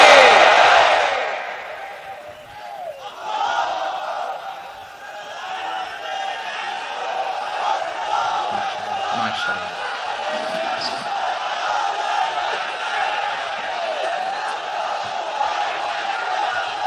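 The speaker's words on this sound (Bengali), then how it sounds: "তাকবীর পড়ুন, লিল্লাহি তাকবীর।" A large congregation calls out the takbir in response to a preacher at an Islamic sermon, a broad swell of many voices that rises loudly at the start and then settles into a sustained crowd murmur and chanting.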